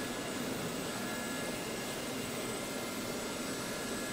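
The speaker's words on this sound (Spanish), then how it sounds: "hay helicópteros en marcha" Gazelle helicopter engine in a video game set in Normandy, a steady loud turbine whine and rotor drone that holds evenly, close and alone.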